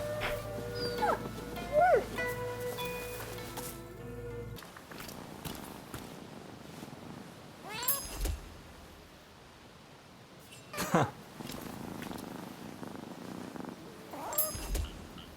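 Cats in the video game Rise of the Ronin purr and let out short meows and whimpering calls over a low steady hum, with faint voices of people talking in the background.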